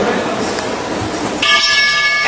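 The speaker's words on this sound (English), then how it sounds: "Anticipation ends with the ring of the bell." Wrestling ring bell at a match between Teddy Hart and AJ Styles, a bright ringing tone that cuts in near the end, loud under a crowd roar and an announcer's voice.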